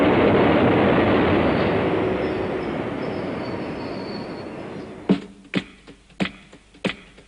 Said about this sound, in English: Into the last station comes the last train.